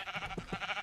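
Minecraft sheep bleating, a quiet wavering bleat stretched across the moment with two short rhythmic pulses in the middle, alone and close.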